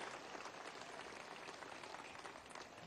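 Applause from the audience at an outdoor Bolivarian National Militia commemoration ceremony, a dense, even wash of clapping from a large crowd, steady and somewhat distant throughout.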